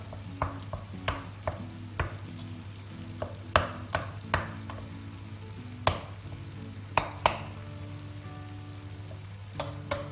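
Grated kaşar cheese is stirred into a baked potato kumpir mixture in a tray, giving repeated sharp scrapes and taps of the utensil at an uneven rhythm, close and clear.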